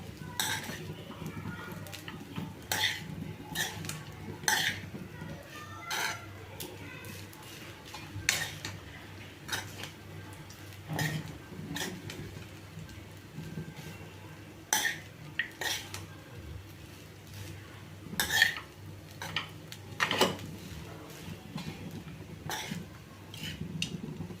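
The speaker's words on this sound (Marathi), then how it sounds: "पुन्हा एकदा आपण एकजीव करून घेऊया भाताला" Lemon rice mixed in a pan with half a lemon squeezed in, giving scattered scraping and clinking spoon-on-metal strokes in irregular bursts over a soft low background, fairly quiet and close.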